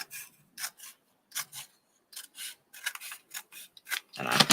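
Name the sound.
scissors trimming paper overhang of a craft journal page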